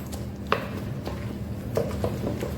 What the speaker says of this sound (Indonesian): kemudian diulek kasar aja cabai hijaunya